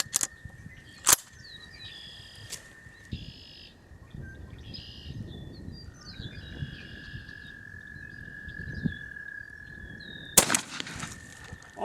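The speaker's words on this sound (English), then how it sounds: "I'm going to take a shot with a Federal Heavyweight 2 3/4 inch shell." A 20 gauge shotgun fires a Federal Heavyweight 2 3/4 inch turkey shell outdoors at 31 yards. Sharp, brief reports ring out over steady birdsong and chirping.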